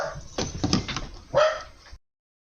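A puppy gives a few short whimpering yelps and squeaky barks close by, and a door shuts moments later, leaving silence.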